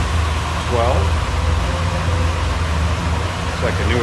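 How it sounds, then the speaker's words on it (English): A 1966 Chevrolet Impala SS V8 idling with the hood open, a steady, smooth low hum with air conditioning compressor noise, heard close, with brief faint speech at moments. "smooth running V8."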